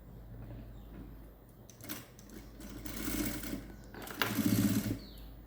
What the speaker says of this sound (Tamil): அப்படியே இந்த ஓரத்தில் நான் தையல் போட்டுக்கிட்டே வரேன்